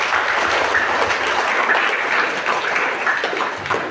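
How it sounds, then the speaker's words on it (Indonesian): Steady, dense applause fills the room for graduating sixth-grade primary schoolchildren at their graduation celebration, a crowd of many hands clapping together without letup. "tepuk tangan untuk anak-anak."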